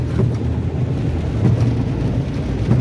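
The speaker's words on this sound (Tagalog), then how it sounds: "Maulan pa rin." Heavy typhoon rain from Typhoon Carina pours steadily near an airport road with flooding, a dense continuous hiss and low rumble with no voices.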